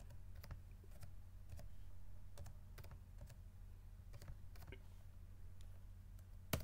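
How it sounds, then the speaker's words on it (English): Computer keyboard keys tapped in short irregular bursts while an IP address is typed, close and fairly quiet over a low steady hum, with no talking. "So let's go ahead and type in our IP address again."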